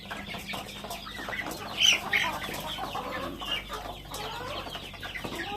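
Mixed flock of Rhode Island Red chickens and turkeys pecking at snacks, with steady close clucking, one louder squawk near the middle and continuous coop chatter throughout.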